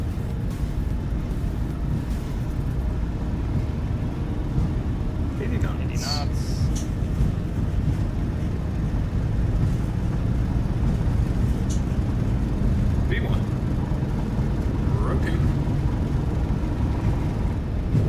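Boeing 737-700 jet engines spool at takeoff thrust in a PMDG flight simulator, a steady loud broadband roar that holds throughout under someone speaking briefly.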